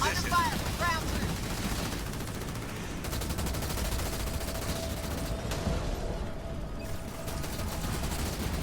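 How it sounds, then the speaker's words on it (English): Enemy ground troops firing in Halo Wars 2, with dense machine-gun bursts and scattered shots rattling continuously across a battle, fairly loud throughout. "Hornet under fire from enemy ground troops."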